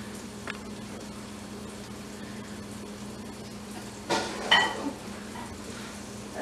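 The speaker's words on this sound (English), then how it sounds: "if you hear sizzling in the background" Faint, steady sizzling of crepe batter in a hot pan runs throughout, with a few clinks of utensils toward the end.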